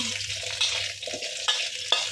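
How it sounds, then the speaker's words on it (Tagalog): Mixed balls sizzle and crackle steadily as they fry in hot oil, with occasional sharp clinks of a utensil stirring the pan close by. "prito po muna natin yung ating mga mixed balls"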